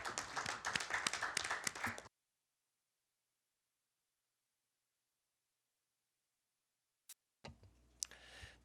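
Brief burst of applause from a small group at a Korean political party emergency committee meeting, lasting about two seconds before cutting to silence, followed later by faint clicks and shuffling.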